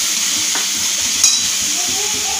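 Fried potatoes for potato manchurian stirred in a hot pan as dark soy sauce goes in, a bright continuous sizzle with light scraping strokes and one sharper hiss midway, close up.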